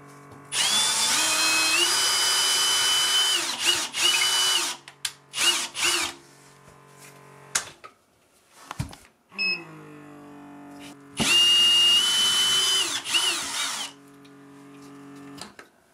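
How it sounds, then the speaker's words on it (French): Power drill boring mounting holes into plasterboard for a curtain rod bracket, close and loud in two long bursts of whining motor with pitch changes, separated by brief clicks and handling noises. "je vais faire des trous sur les deux côtés"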